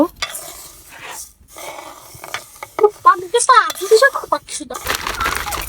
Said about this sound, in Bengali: আমরা এখন মুগ ডাল ভাজছি